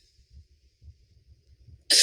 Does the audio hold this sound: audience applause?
no